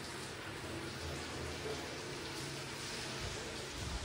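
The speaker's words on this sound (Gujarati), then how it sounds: "અત્યારે પણ છે વરસાદ ચાલુ થઈ ગયો છે." Rain falls outside a home in Gujarat in the late morning as a faint, steady, even hiss with no clear individual drops.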